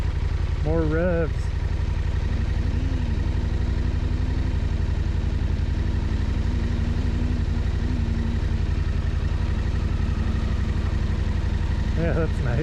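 A dual-sport motorcycle on a Utah backcountry trail near a river crossing runs steadily close by, its engine note rising and falling with bursts of revving at the start and end, while riders talk over it.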